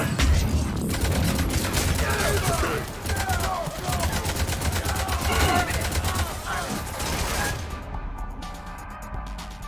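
Heavy firefight gunfire aboard a ship's CIC in Mass Effect 3, a sustained rattle of rapid shots from several weapons with crashes and impacts, loud and close, with voices mixed in.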